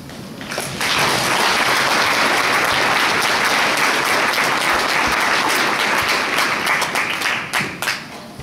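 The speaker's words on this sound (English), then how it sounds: "I hope that round of applause was directed to yourselves" An audience breaks into a full round of applause at a foundation event, dense steady clapping swelling after a brief start, holding loud for several seconds, then thinning out with a few last scattered claps.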